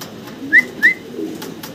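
A single male fancy pigeon calls close by, two short bright whistly coos in quick succession over a soft low background murmur.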